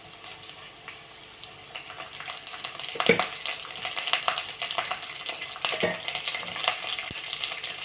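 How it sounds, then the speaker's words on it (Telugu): Chopped onion frying in hot oil in a pan for a broad bean curry, a steady close sizzle with occasional louder crackles and stirring scrapes. "ఆనియన్ కొద్దిగా ఫ్రై అయిపోయింది"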